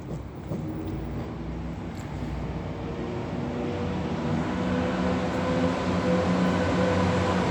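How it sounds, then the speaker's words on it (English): A train rolls past in Edinburgh near Leith Walk: a low, rumbling clatter that builds steadily and grows louder and closer toward the end. "That's a train."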